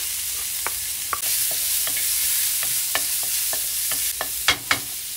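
Sliced onion drops into a hot pan for chicken afritada and sizzles steadily, broad hiss jumping louder as it lands, with scattered sharp stirring clicks and scrapes; close and alone, no talk.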